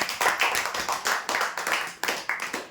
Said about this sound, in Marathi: जोरदार टाळ्या होऊ यासाठी